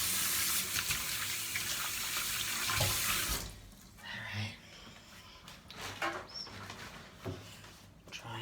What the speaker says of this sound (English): Since we're working with eggs, just do a real quick wash.